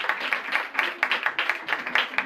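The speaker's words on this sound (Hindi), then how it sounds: "तालियां बजाएं" An audience claps for a family at a gathering, producing a steady patter of many hands with brief swells. The clapping is moderately loud and heard alone, with no talking over it.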